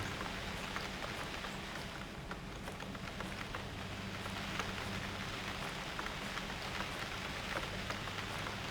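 Steady rain falls in the survival game UnReal World, a dense, even patter of drops hitting surfaces that continues without pause, with no voices.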